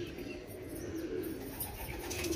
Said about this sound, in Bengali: দেখুন এভাবে উড়ানো পায়রা আছে আমার এবারে